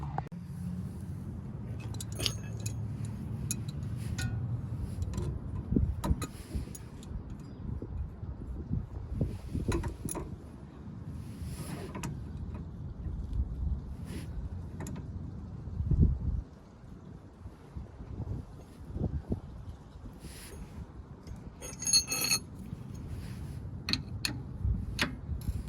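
Faint metallic ticks, clicks and tool taps from working on a 1991 Miata outer tie rod nut, with scattered short knocks and scraping over a quiet background.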